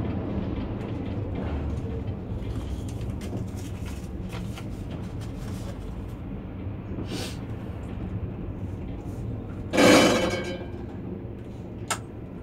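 A Lviv route 8 tram rolls along its rails with a low steady rumble, occasional metallic clangs and a brief louder screech near the end.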